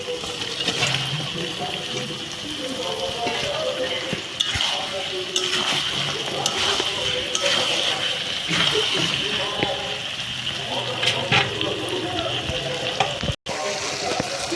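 Chicken pieces fry in a pan with a steady loud sizzle, stirred now and then with scraping utensil clatter.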